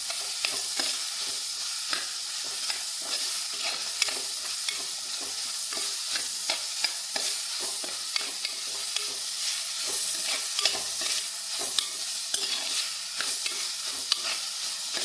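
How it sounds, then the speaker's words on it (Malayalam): Chicken curry with onions being stirred in a pan, a soft continuous sizzle broken by frequent quick scrapes and taps of the spoon against the pan, close and without speech. "ഇളക്കി കൊടുക്കാം"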